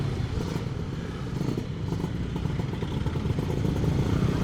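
A Suzuki Satria 2 motorcycle with a non-original intake manifold idles at night on a street in Tasik, its engine running with a low, steady clatter that stays high rather than dropping back quickly after the throttle is released.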